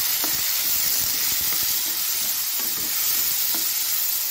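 Chopped tomatoes sautéing with onions in a pan, a dense steady hiss of frying close by, with faint soft stirring strokes at roughly one-second intervals.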